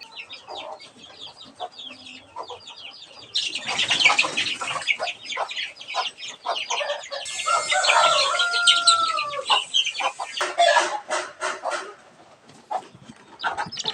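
Nine chickens cluck and squawk in a noisy flurry, several birds close by, with a rooster crowing partway through and some rustling.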